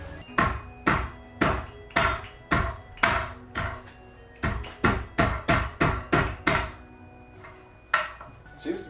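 A nail hammer pounds steak flat on a board, striking in a steady series of loud, close thuds, with a pause and a final blow near the end.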